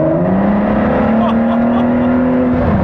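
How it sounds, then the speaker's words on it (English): Turbocharged V6 of a 2017 Ford GT supercar hums steadily at moderate pitch, a continuous engine drone rising slightly through the stretch with a voice speaking over it. "You roll on the throttle,"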